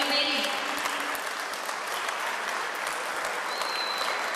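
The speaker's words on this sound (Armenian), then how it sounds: "Եկեք ևս մեկ անգամ ծափահարենք զորավարներին։" Audience applause at an Armenian powerlifting championship, a dense steady round of clapping from a crowd filling the room, with a voice briefly heard over it at the start.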